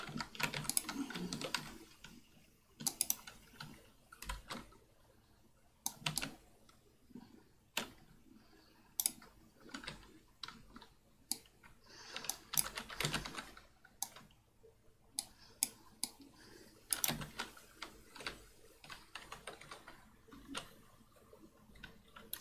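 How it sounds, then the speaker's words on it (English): Keyboard typing while playing Borderlands on a PC, irregular bursts of clicky keystrokes with quiet gaps between them, close and fairly soft, no voices. "I accidentally typed something in chat. I hit T by accident."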